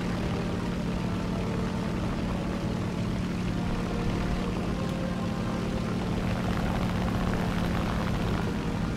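A fighter plane with four 20 mm cannons drones steadily in an air combat video game, its engine a continuous, even roar throughout with no voices.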